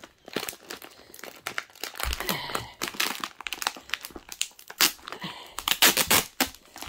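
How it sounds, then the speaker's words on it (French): Glued plastic toy-kit packaging being torn open by hand, with repeated close crinkling, crunching and ripping bursts in an uneven rhythm, loud and unaccompanied by talk. "je suis en train d'essayer de déchirer"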